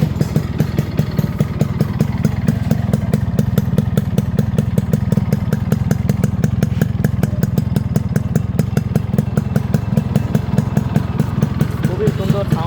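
A Yamaha RX100 motorcycle engine runs steadily up close, with a fast, even exhaust pulse and mechanical clatter that holds at a constant idle-like pace throughout.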